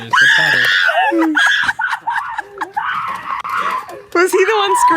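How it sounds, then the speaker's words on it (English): A person screams loudly and repeatedly inside a played video clip, shrill bursts alternating with brief gaps across the whole stretch, mixed with excited voices and laughter. "Was he the one screaming?"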